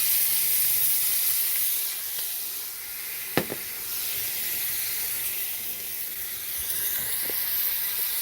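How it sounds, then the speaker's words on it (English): Steady hissing sizzle of food frying in a hot pan, continuous and fairly loud throughout, with a brief sharp crackle partway through. "Get that sizzle up in there"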